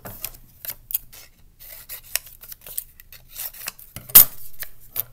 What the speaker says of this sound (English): Let me cut it.